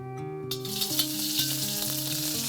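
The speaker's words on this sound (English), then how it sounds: "Our oil is heated. We're gonna add our chilies." Chilies dropping into hot oil in a wok for a vegetarian Chinese dish, setting off a loud, steady hiss and crackle of frying close by, with no talking.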